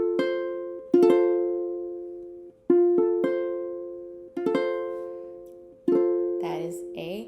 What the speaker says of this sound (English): That is a major chord in root position.